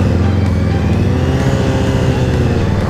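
Suzuki Bandit 600 motorcycle on its stock exhaust, engine droning steadily and loudly with a sustained revving tone during a night ride, heard close with constant wind and road noise.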